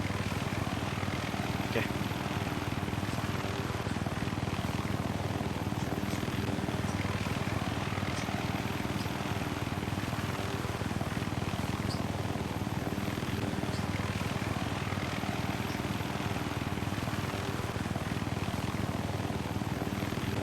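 Helicopter in the Minecraft military base game, its steady rotor and engine drone running continuously throughout, with players talking over it.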